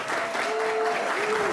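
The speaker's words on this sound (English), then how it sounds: "let's give them a big round of applause." Brief burst of audience applause at an Austin parent empowerment event, steady dense clapping filling the whole moment with a faint voice tone running underneath.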